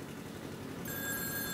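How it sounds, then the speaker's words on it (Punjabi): A telephone rings with an incoming call in an indoor scene, a steady electronic ringing tone entering partway through and sustaining over a low background hum, with no talking. "ਸ਼ੈਂਕੀ ਦਾ ਫੋਨ ਆ ਗਿਆ"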